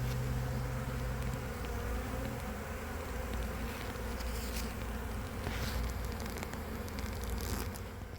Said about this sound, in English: I got all of those bees into my box